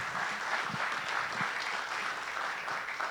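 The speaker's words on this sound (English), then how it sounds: "Let's give you a round of applause." Steady applause from an audience fills the space, an even wash of clapping that holds at a constant level throughout.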